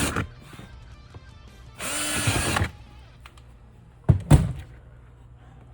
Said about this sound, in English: I'm gonna drill 4 1/4-inch holes in there.